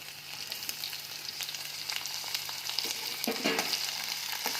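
Capsicum and tomato fry in a pan with a steady, close sizzle and a few soft clicks of stirring throughout.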